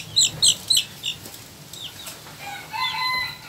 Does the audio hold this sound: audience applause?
no